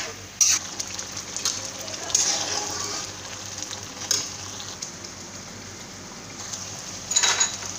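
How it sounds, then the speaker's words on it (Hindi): Ginger garlic paste and green chilli masala fry in hot oil with a steady, close crackling sizzle, and stirring scrapes surge now and then. "अब चलिए मसाले को अच्छे से फ्राई होने देते हैं, तेल के छोड़ते तक ही फ्राई होने देते हैं।"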